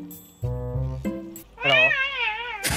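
A cat meows in the video game Rust with a couple of short nasal meows, then a longer, wavering, higher-pitched cry ending in a sharp noisy burst, loud and close.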